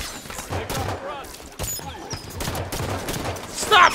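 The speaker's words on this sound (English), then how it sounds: "Stop shooting at me, you bollocks!" Bursts of gunfire in the video game Halo 5, rapid shots mixed with game effects, partly under the energetic shouting of a player.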